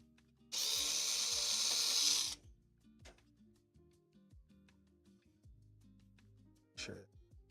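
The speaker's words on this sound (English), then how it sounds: "There's just a few screws you got to take off." A power drill backs screws out of a Skywalker V1 coffee roaster in a single loud whirring burst of about two seconds, then quieter clicks and handling, with a short second whir near the end.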